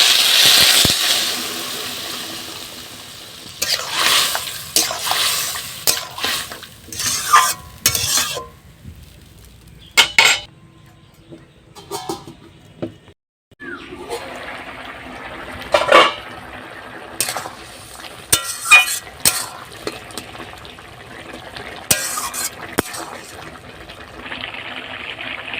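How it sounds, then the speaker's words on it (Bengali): Water is poured into a pan of spiced vegetables being cooked for a prawn, potato and bitter gourd curry, followed by bursts of sizzling and repeated scraping of a spoon against the pan, close and uneven, separated by quiet pauses. "এবার আমি জল দিয়ে দিচ্ছি, অল্প করে একটু জল দেবো"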